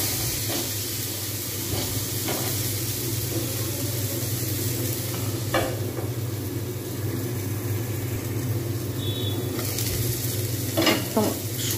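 Chicken in a dry spice mix, cooked without added oil, crackles and sizzles steadily in a frying pan at a home stove, with faint stirring scrapes and a few louder clicks near the end.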